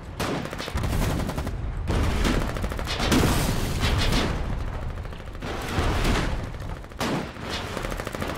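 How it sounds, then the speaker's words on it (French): Gunfire and explosions from a Foxhole battle as an enemy vehicle blows up, a dense continuous barrage of shots and blasts running loud throughout with no pauses. "il y a un de leurs véhicules qui a sauté"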